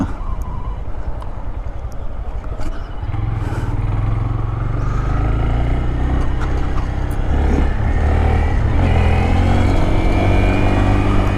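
Motorcycle engine on a street test ride, a loud continuous drone that builds steadily as the bike picks up speed, close to the rider with rushing wind noise and no talk.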